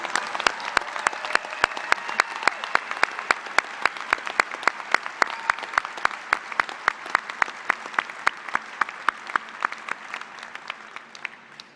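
Graduates of the agriculture college at a Fall 2014 K-State commencement ceremony are met with sustained, loud applause from a large crowd, dense clapping that carries on for the whole stretch and tapers slightly at the end.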